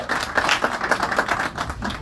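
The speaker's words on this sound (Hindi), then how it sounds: "ताली बजा दो भाई एक बार सारे के सारे" A crowd claps together in dense, steady applause that fills the whole stretch at a fairly loud level, with no talk over it.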